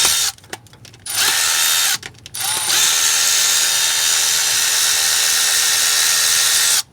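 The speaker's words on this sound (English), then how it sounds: "I'm using my Milwaukee Impact Duty powered M12 ratchet." A Milwaukee M12 powered ratchet with a short 10mm socket backs bolts out of a 2004 Ford F150 5.4 three-valve engine during AC compressor replacement, with two brief whirring bursts and then a long steady loud whine, close up.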